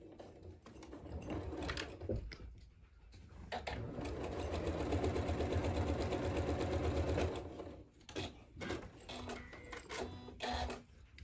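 Sewing machine stitches a partial seam on a quilt block, a close, steady mechanical whirr building and running for several seconds, then stopping and restarting in shorter bursts.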